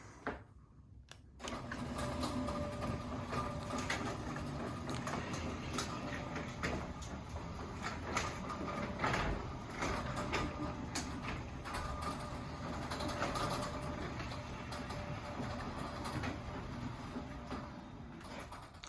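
A 2005 Marantec Mac Lift Deluxe chain-drive garage door opener runs as the door lowers, giving a continuous loud mechanical rattle and grinding hum that stays steady for the whole stretch after a brief quiet start.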